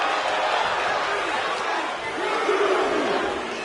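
A virtual arena crowd in WWE 2K25 wrestling roars steadily throughout, a dense, continuous cheer with chanting swells, under a play-by-play commentator's voice.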